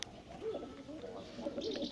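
Soft, low pigeon cooing from a male pigeon, a few rolling coos close by over quiet background noise.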